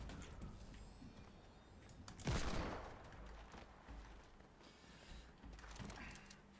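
Gunfire in the video game Fortnite: a single loud, sharp burst of shots around the middle, standing out from a dim, steady background of game noise.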